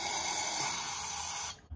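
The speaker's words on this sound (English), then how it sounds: "You can spray WD-40 down here and let it sit for a little while." WD-40 sprayed from an aerosol can onto a corroded bathtub spout pipe, one steady close hiss lasting about a second and a half before cutting off.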